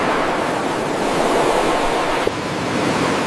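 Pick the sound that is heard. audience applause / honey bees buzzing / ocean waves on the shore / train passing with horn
ocean waves on the shore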